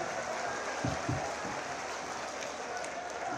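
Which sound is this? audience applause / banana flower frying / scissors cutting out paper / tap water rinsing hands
audience applause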